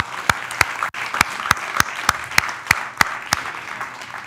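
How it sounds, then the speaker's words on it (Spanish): A church congregation claps in a slow, even rhythm, about a dozen sharp, evenly spaced claps standing out over a soft background hum. "Un aplauso al Señor."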